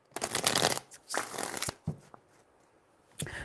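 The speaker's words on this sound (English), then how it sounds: "Four shuffles." Tarot cards shuffled by hand at close range, two long loud riffling bursts followed by shorter taps and a final quick shuffle.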